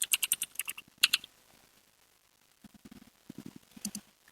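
Keys clatter on a computer keyboard during firewall configuration, in two quick bursts of crisp clicks, then a quiet pause and softer, duller taps toward the end.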